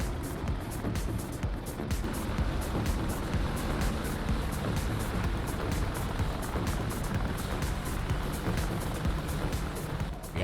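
Twin General Electric T700 turboshaft engines of an AH-64D Apache helicopter in the DCS flight simulator, a steady loud rotor and engine roar with a rhythmic blade chop, continuous and close throughout.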